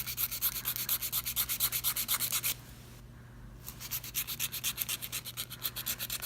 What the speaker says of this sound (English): I have a very, very hard time filing my opposite hand